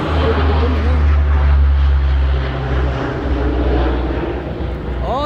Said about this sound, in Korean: 참 비행기 소리 참 요란하네요.